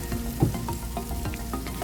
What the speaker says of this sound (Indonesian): Lalu tumis kembali sayurannya hingga sedikit agak layu.